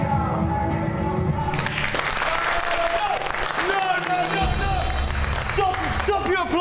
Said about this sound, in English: Stop your applause!